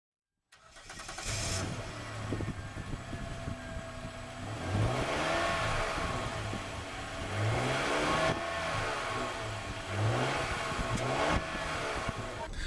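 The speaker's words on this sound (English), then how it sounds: "So, coming up, the exhaust noise." A 2009 Kia Sedona engine starts and then revs repeatedly, each rise and fall of the exhaust note clearly heard alone at close range.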